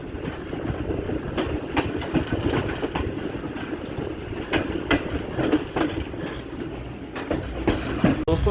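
The Karachi Express rumbles along the rails between Multan and Lahore in Pakistan, heard from on board as a steady loud roar with rhythmic clickety-clack of wheels over rail joints.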